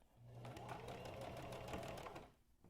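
A sewing machine stitches fabric along the edge of the foot while sewing a DIY face mask, a steady rapid mechanical whirring that runs for about two seconds, quiet and close, then stops.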